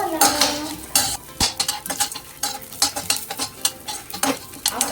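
Dried red chillies and coconut dry-roasted in a pan for sambar masala, with rapid, loud, close scraping and clinking of a spatula against the metal pan over a light sizzle, in quick irregular strokes.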